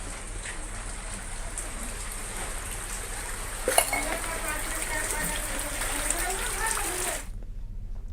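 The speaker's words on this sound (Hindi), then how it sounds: "झमाझम बारिश यहाँ भी देखने को मिली" Heavy monsoon rain in Chhattisgarh pours down in a dense, constant hiss of drops striking surfaces, with a brief clatter partway through before the sound cuts off abruptly near the end.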